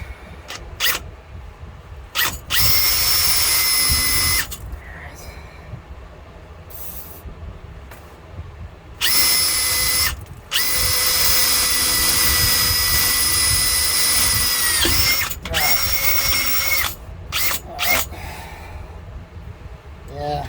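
A power drill whines loudly in repeated bursts near the rear axle of a lifted 2004 4x4 Astro van, starting and stopping several times with quieter gaps between, close up.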